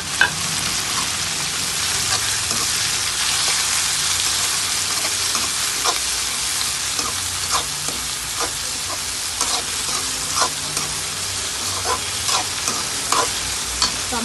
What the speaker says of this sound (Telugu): టమాటా ముక్కలు కూడా ఈ విధంగా పోపులో మంచిగా వేగనేయాలి